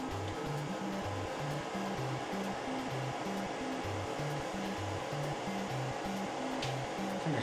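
Steady machine drone from an xTool F2 Ultra laser engraver marking stainless steel, a continuous fan-like whir with a rhythmic low pulsing pattern underneath as the head moves, constant level throughout, no talk.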